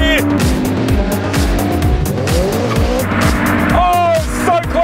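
A racing Honda with VTEC howls through its gears in a race against a Mazda, the engine revving hard and close while tires squeal, with excited talk over the roar.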